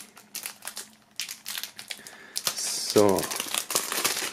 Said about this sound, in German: Wir werden das Ganze mal aus der Folie holen.